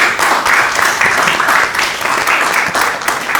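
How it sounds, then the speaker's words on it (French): An audience in a hall applauds a guest's entrance: a sustained, dense burst of clapping from many hands, loud and close, with no voices over it. "Je vous demande d'applaudir son entrée dans la salle."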